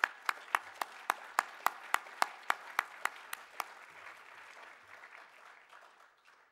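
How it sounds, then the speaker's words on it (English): A conference audience in Assisi applauds, opening with a run of about a dozen sharp, evenly spaced claps before dissolving into a softer, scattered round of clapping that fades toward the end. "Please give them a very big round of applause."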